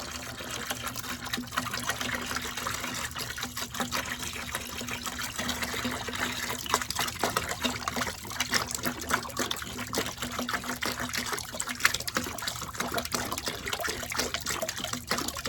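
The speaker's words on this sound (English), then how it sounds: "Now I'm gonna dilute it with regular distilled water." Distilled water poured steadily into a garden solution to dilute it, a constant close trickling and gushing liquid stream lasting throughout without talk.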